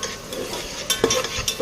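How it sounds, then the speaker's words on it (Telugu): Onions frying in a pan, a short burst of mid-level sizzle with a couple of spoon clinks and scrapes near the end, no talking. "ఉల్లిపాయలు బాగా వేగిన తర్వాత బాగా వేగిపోయింది"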